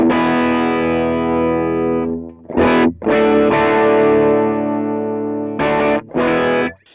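Electric guitar played through a Vox AC30 amp model on a NUX Mighty Space, set for a driven rock and roll tone: loud sustained distorted chords ring out, then short choppy stabs with brief gaps.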